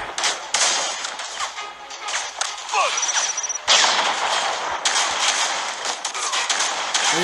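Sniper rifle gunfire from the mobile shooter game Hero Hunters, sharp loud cracks and bursts of shooting over a dense battle din with faint talk mixed in.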